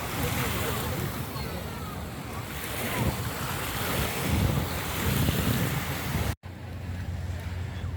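Heavy sea surf rolls onto a beach at Budva in rough conditions, a loud continuous wash of breaking waves with strong wind rumble on the microphone.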